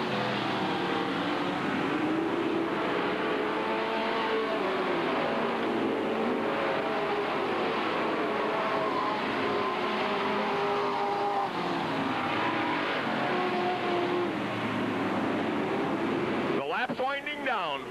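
Sportsmen stock cars racing at Hales Corners Speedway in 1988, a continuous engine roar from the pack with rising and falling revs, running under an announcer's commentary, with a loud car sweeping past near the end.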